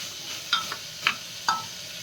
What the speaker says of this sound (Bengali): এটা এখন একটু কষিয়ে নিই